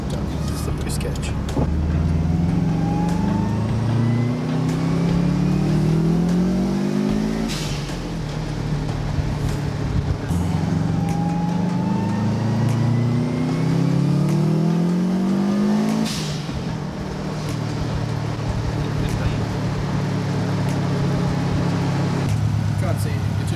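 A turbocharged car fitted with a newly installed boost gauge makes several hard acceleration pulls, the engine note climbing in long rising sweeps with drops between gears. It sounds loud and close from inside the car, with voices talking over it.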